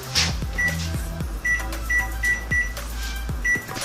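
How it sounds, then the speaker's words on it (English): A series of short electronic beeps from a microwave keypad being pressed to set the timer, with soft clicks and a low hum underneath. "So first I'm going to set the microwave"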